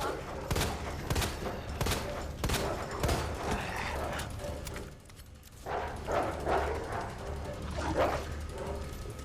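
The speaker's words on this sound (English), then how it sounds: "it's good to know the dogs can't get on the bus." Dogs bark repeatedly in Resident Evil 2 Remake, a series of loud sharp yelps and barks in the first half, then quieter growls and whimpers amid gunfire and game noise, with a voice talking over parts.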